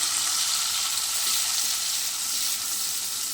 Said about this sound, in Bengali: তাহলে আমি ভালো করে ভেজে নিই।